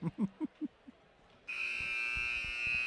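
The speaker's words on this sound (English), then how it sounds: "All right, you can hear the buzzers going off." Basketball game buzzers sound in a gym after a few soft knocks, then a steady electronic buzz that holds loud and unbroken to the end.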